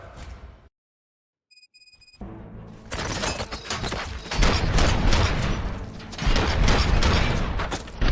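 Gunfire in the Robocop: Rogue City video game bursts out loud after a brief near-silence, building into dense, rapid volleys of shots and heavy booms.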